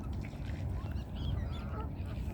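Geese and other waterfowl honk and quack at Crosby Marina in Waterloo, Liverpool, on a frosty day, a continuous busy chorus of calls over steady outdoor background noise.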